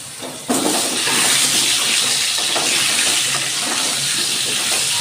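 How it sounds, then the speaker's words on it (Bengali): Loud, steady sizzling and crackling of potatoes frying in hot oil left from frying fish starts suddenly and keeps going without a break. "এই মাছ ভাজা তেলের মধ্যে আমি আলুও ভেজে নিচ্ছি।"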